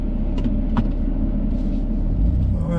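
Steady low rumble of a 2020 BMW M2 Competition engine while driving in its sportiest setting, a constant close drone with faint higher noises over it.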